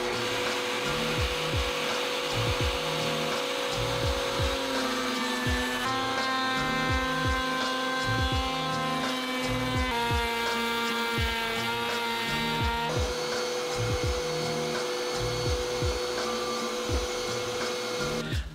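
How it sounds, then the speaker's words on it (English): A router bit cuts handle recesses into a wooden end grain cutting board, giving a loud, steady machine whine with a rumbling motor underneath that holds throughout, without speech. "now we're gonna use the same router bit just to add the handles"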